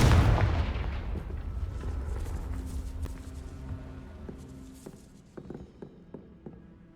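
A Confringo fire-blast spell in Hogwarts Legacy bursts loud at the start, then decays into a long rumbling tail while sharp, fainter impacts and clatters follow near the end.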